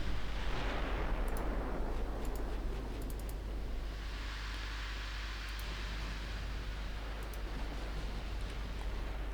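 Naval warfare in Ultimate Admiral Dreadnoughts, destroyers launching torpedoes amid gunfire: a broad rumbling whoosh and booming roar with a deep low drone underneath, dense and sustained, with faint sharp ticks scattered above.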